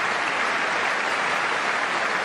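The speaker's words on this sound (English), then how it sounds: "They're clapping." A large audience claps without a break during a State of the Union address, a dense, even wash of applause that holds at the same level throughout.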